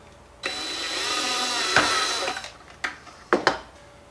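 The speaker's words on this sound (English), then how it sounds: "drill that same distance." A power drill whirs steadily for about two seconds, then winds down, followed by a few short clicks and knocks.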